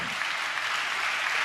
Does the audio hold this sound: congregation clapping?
yes